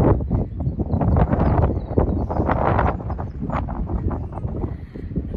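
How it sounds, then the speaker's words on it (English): Strong, steady wind roars and buffets the microphone on a stormy mountain peak along the Appalachian Trail, a loud continuous gusting rumble with no talk. "As you can hear, it's quite windy"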